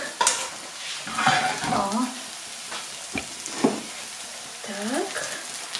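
Chopped onion sizzling and being stirred in a frying pan, a soft steady crackle broken by scraping and clinks, with someone talking over it throughout.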